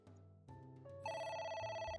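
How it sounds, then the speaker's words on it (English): Telephone in the game AI: The Somnium Files ringing with bright, electronic bell-like tones that step up in layers into a sustained shrill ring, moderately quiet and without speech. "Damn phone again. It's ringing again."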